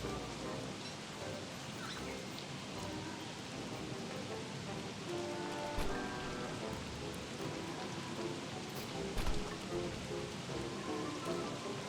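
Steady rain pattering in the Don't Starve Together game world, a dense, even wash of drops with faint tonal game sounds and music-like notes layered underneath, continuous throughout.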